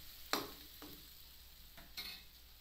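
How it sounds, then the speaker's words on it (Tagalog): Cheesy spaghetti sauce being stirred in a pan, with a couple of sharp scraping strokes of the spoon over a low, steady sizzle. "Ngayon naman hahaluin muna namin ito."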